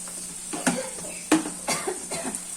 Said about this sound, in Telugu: ఫిష్ ఫ్రై చేస్తున్నాం కదండి, దగ్గు బాగా వస్తుంది.